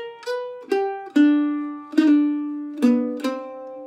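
A mandolin picks measures 13 to 16 of a break from a song: six clearly plucked, ringing notes with bright attacks and sustained tones, close and solo.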